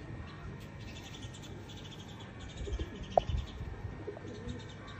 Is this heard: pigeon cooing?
yes